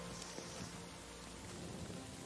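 Rain pours down in Kingdom Come Deliverance 2, a dense, even hiss of drops on the ground heard steadily throughout with no voices.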